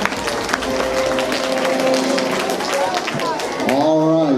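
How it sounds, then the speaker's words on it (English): Applause for 5th graders at a school math competition, with steady clapping from an audience filling the room and a voice talking over it near the end. "All right, give our 5th graders a round of applause."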